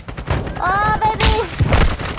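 Gunfire in Call of Duty Warzone, a burst of loud shots with sharp cracks overlapping a brief whistling tone, layered with a voice.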